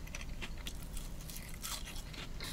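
Crispy Popeyes fries crunching and being chewed up close, a run of small crackling bites and scrapes over steady low background noise, with no one talking.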